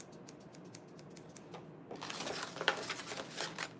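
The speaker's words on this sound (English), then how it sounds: "Okay, so then I'll cut out this paper." Small, tiny scissors snip through paper in a close run of quick crisp cuts that grow denser and louder partway through, with faint rustling between snips.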